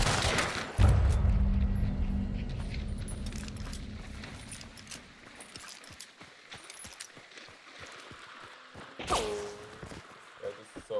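Centennial rifle gunfire in the game Hunt: Showdown, with a heavy booming shot near the start, its rumble trailing off, then a second sharp report later among scattered clicks and clatter.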